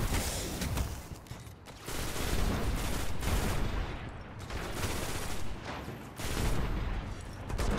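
Gunfire from an enemy shooting at the player in modded Minecraft: dense, loud bursts of rapid shots arrive in waves, separated by brief lulls.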